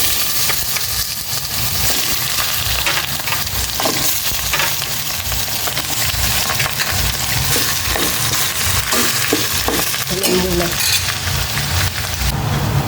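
Chicken sautéing in a pan for adobo, a steady close sizzle and frying hiss running throughout, with occasional stirring scrapes and clinks, no talking.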